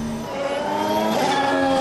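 A 2014 Formula 1 car with a turbocharged V6 hybrid engine and energy recovery system screams past, a loud, steady high-pitched engine whine with shifting harmonic tones that rise slightly over the short stretch, alone without voices.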